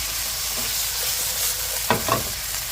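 Broccoli with ginger and garlic stir-frying in a pan, a steady close sizzling hiss with a couple of brief scraping stirs near the end, no talking.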